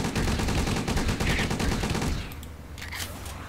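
Towers in a tower defence game fire in rapid, continuous bursts, a dense loud rattle that suddenly drops to a quieter, thinner volley partway through, with no talk over it.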